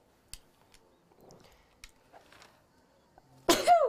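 A single sudden sneeze bursts out near the end after quiet rustling and small scattered noises.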